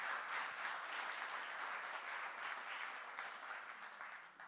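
Audience at the Prix Ibn Khaldoun-Senghor 2024 award ceremony applauding a prize winner, a steady, dense wash of many hands clapping throughout, fairly even in loudness and fading slightly toward the end.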